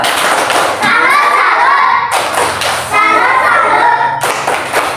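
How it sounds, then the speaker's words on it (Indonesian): A classroom of pupils performs a rhythmic 'tepuk salut' cheer clap for group 1, with loud, close bursts of synchronized hand claps in three distinct rounds, mixed with children's voices. "tepuk tangan untuk kelompok 1. Tepuk salut."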